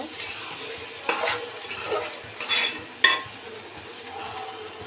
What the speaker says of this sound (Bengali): চালটা আমি একদম ভাজা ভাজা করে নেব